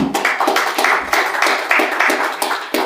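An audience at a conference presentation gives a short burst of steady applause, with many hands clapping in a close, moderately loud patter and no talk.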